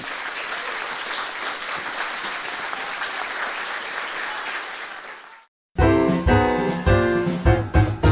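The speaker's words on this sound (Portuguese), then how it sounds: "eu queria uma salva de palmas" An audience at a Mackenzie architecture school anniversary event breaks into sustained applause, a dense, steady roar of many hands clapping that fades out after about five seconds before music starts.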